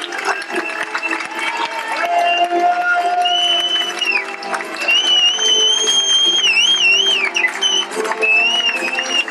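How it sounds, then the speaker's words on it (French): An audience at the 1989 Miss Arc en Ciel pageant in the Arc en Ciel discotheque in Alençon applauds and cheers as a steady crowd roar, with music and whistling tones over it, loud and close throughout. "je crois que le public va applaudir"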